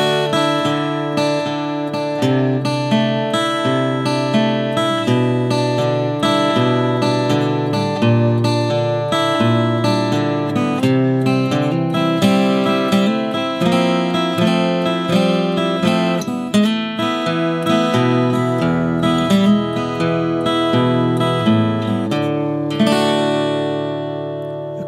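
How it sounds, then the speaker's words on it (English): Acoustic guitar plays the cross-picking intro of a song at a slow tempo, ringing picked notes layered in a steady repeating pattern, clear and close throughout with no talking. "We're going to target just the lead tones that we're hearing throughout this cross picking pattern."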